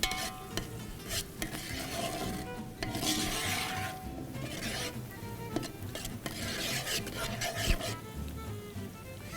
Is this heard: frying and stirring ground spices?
yes